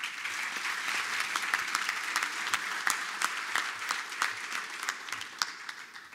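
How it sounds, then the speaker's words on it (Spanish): An audience at an award ceremony applauds a mining company representative, many hands clapping in a lively, crisp patter with distinct individual claps standing out, moderately close and steady throughout. "Un aplauso, por favor."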